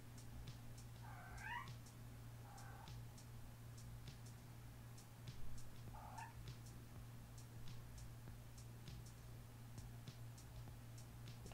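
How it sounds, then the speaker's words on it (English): A pet cat meows indoors, two rising calls close together early on and a third a few seconds later, faint against a steady low hum with no talk. "Let me show y'all my cat Cleopatra."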